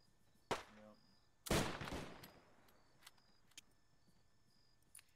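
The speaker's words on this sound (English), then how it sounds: "Shooting very far away." Gunfire in the Arma 3 military video game, far off and faint: a short burst, then a longer rattling volley with a few scattered single shots after it, set against quiet background noise.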